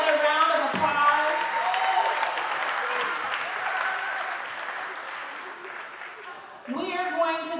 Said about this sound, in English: if we can give them another round of applause